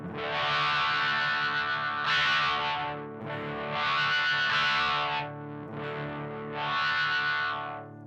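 Distorted electric guitar through a Dunlop 535Q wah pedal at the quarter Q setting in a medium range: sustained chords sweep in repeated vowel-like swells, brightening and darkening about three times, loud and close with no voice.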